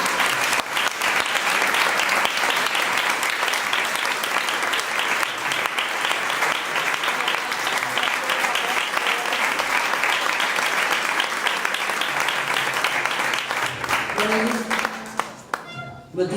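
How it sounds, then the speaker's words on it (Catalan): A large crowd at a Compromís-Esquerra Unida municipal candidacy presentation applauds loudly and steadily, a dense wash of clapping that carries on for about fifteen seconds before thinning out as a voice starts to come through. "Un fort aplaudiment, Lusa, Montllor i Mollà."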